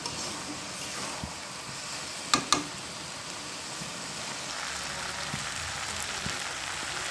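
Yardlong beans and potatoes sizzling steadily in oil in a pan, a continuous crackling hiss with a couple of sharp clanks from a utensil partway through, no talk.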